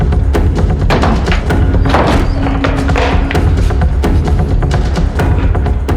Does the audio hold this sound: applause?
no